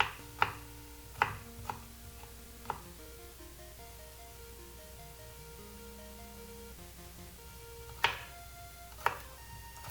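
A knife chopping food into fine pieces on a cutting board for chicken adobo, sharp separate thuds in a short burst, then a pause with low background hum before a few more close chops.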